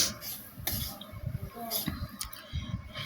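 Semolina fries in oil in a wok for halwa, with a spatula scraping and stirring in short irregular strokes close by and a soft sizzle underneath, mixed with some talk.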